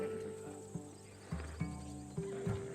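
A Macedonian war horse bred for battle in Assassin's Creed Odyssey gives a few soft, uneven clip-clop hoof steps at close range over faint insect-like ambience, with no talking.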